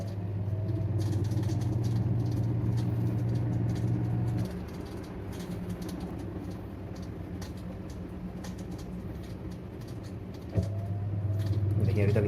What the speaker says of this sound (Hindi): ये देखिए स्पिन पे चल रहा है